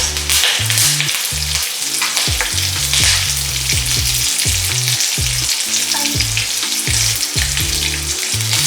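Red chili padi and curry leaves fry in about a tablespoon of hot oil over medium-low heat, giving a loud, continuous crackling sizzle with quick spitting bursts that runs the whole time without any voices.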